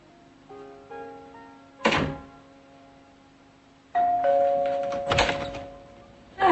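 A doorbell chiming in sustained tones, with a heavy door thunk early on and more thuds and bangs near the end, close and fairly quiet.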